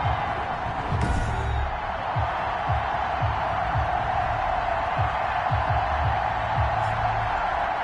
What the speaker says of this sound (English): Big Ben Roethlisberger greeted by this sold-out Heinz Field crowd